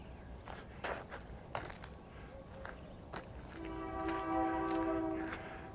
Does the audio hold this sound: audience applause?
no